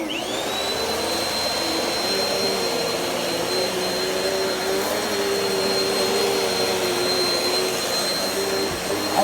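A vacuum cleaner runs continuously over the floor with a loud, steady motor whine and airy rush that holds throughout, close up and without talk.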